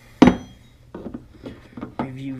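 Mac Tools body hammers and dolly kit being handled: one loud, sharp metallic clank, then several softer clinks and knocks of steel tools against each other and their case, close by.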